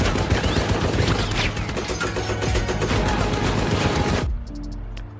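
Dense bursts of rapid machine-gun and rifle fire crackle through a war film battle against German soldiers, loud and sustained before cutting to a quieter tail.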